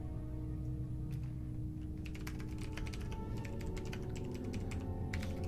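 Fingers type quickly on a computer keyboard during online game play, a close, continuous patter of key clicks over a low background hum.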